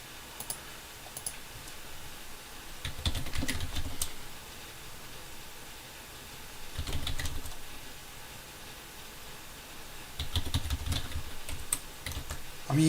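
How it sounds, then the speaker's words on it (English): Someone types on a computer keyboard in three separate bursts of rapid clicking keystrokes, close and moderately loud, with quiet background hum between them. "I'm going to start typing in the teams right now."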